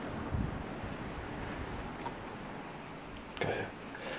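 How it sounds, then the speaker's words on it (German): Gusty wind buffets the microphone with a steady roar, and a couple of brief bumps and rustles break through. "Hier ist es heute sehr windig."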